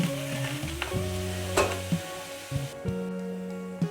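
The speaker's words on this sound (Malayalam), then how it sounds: "ഒരു അഞ്ച് മിനിറ്റ് ഞാനൊന്ന് ഇളക്കി കൊടുത്തിട്ട് ഗ്യാസ് ഓഫ് ചെയ്യുന്നുണ്ട്" Vermicelli roasting in ghee in a pan for semiya payasam, stirred with a spoon: a soft sizzle under repeated close scrapes and knocks against the pan, with no voices.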